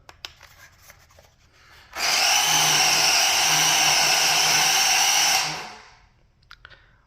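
Electric motor of a WPL D12 Kei RC truck running at a raised throttle rate, giving a loud, steady high-pitched whine for about three seconds that fades away, with quiet clicks before and after.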